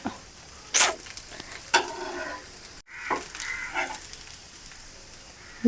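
A dosa fries on a hot pan with a soft, continuous sizzle, broken by a few sharp scraping clicks, with no talking.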